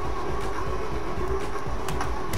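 A train runs in a video game, its steady rumbling roll and clatter loud and close throughout, with a few sharp metallic clicks and no talking.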